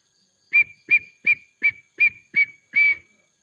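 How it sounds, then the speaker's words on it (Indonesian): A person whistles seven short, evenly spaced high notes, the last held slightly longer, clear and close against near silence. "Maaf nih siulnya"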